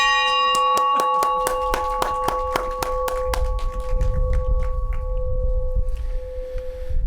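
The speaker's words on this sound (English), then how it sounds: "Ring the bell." A ceremonial bell rung at a council swearing-in ceremony, about a dozen quick bright strikes in an even rhythm that ring on and fade away, with low room noise underneath.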